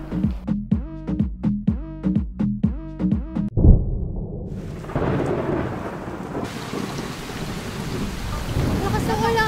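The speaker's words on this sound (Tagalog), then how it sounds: "Lakas ng ulan!" Heavy rain pours steadily with a sharp, close crack of thunder, following a stretch of rhythmic, repeated clattering; the downpour roars on as a dense wash of sound.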